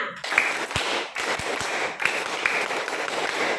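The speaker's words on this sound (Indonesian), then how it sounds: "Mana tepuk semangatnya?" Schoolchildren in a classroom perform the tepuk semangat spirit clap, a patterned sequence of group claps with small pauses between beats, close and lively, with faint voices mixed in.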